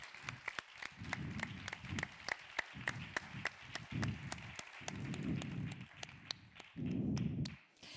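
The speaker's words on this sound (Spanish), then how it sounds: "el primer aplauso de la tarde igual es para ellos." An audience at a women's week closing event claps in a sparse, uneven way, with distinct individual claps sounding over a soft background murmur and low rumbling noise for several seconds.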